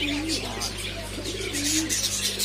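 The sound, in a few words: fancy pigeons cooing in a bird shop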